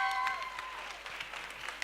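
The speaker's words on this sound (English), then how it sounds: "Let's give them a round of applause." An audience at a South African commemoration of the International Day for Disaster Reduction gives a short round of applause, a soft wash of clapping that starts over a fading tone and stays fairly even.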